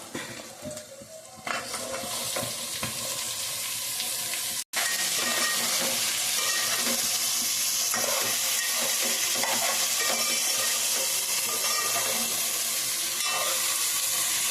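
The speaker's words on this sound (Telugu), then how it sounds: "ఇప్పుడు నేను వేసి ఇదిగోండి దొండకాయలు వేస్తున్నాను ఇందులో" Pieces of ivy gourd (dondakaya) drop into a hot pan and fry with a loud, continuous sizzle and bursts of stirring, filling the clip.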